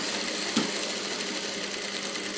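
Sewing machine stitching a princess-cut blouse seam, a continuous close whir with steady rapid rhythm and one small knock partway through.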